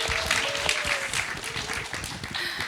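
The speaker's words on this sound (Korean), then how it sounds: "모두들에게 스스로 박수 한 번만 더 부탁드리겠습니다" Applause from a startup ecosystem conference audience, moderately loud uneven clapping across the room, with faint tones and a few voices beneath it.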